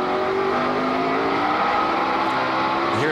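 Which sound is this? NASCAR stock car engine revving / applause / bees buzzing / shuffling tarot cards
NASCAR stock car engine revving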